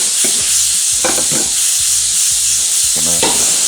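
Onions, garlic and tomatoes sizzle loudly in a pan for a stewed tuna dish, a bright constant frying hiss broken by several short scraping and rattling bursts as the pan contents are tossed and stirred.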